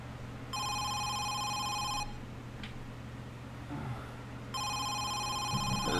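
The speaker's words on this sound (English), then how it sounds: "Phone call?" A telephone rings in two bursts of bright electronic trilling, separated by a gap with a faint click and some rustling movement, the ringing loud and close.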